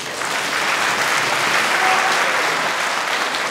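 Spectators at a Krush kickboxing event in the lightweight division roar and applaud after a knockout, a loud, continuous wash of cheering and clapping throughout.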